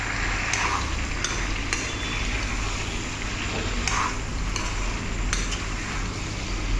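Pork and potatoes being stirred in a wok, a steady bubbling simmer broken by several sharp clinks and scrapes of a utensil against the pan, close and without speech.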